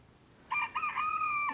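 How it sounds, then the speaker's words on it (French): Hens clucking loudly together with a rooster crowing, a close, sustained burst of calls starting partway through and carrying on to the end. "on les arrête plus nos poules cantiliennes. Elles veulent continuer le concert"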